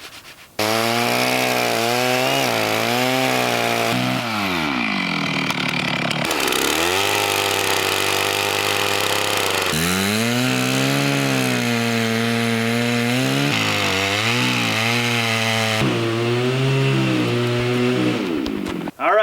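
Chainsaw cross-cutting firewood logs in a forest, with loud, close engine roar held under load for long stretches and pitch dips and rises as the chain bites and revs between cuts.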